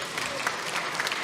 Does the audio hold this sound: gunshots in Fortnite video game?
no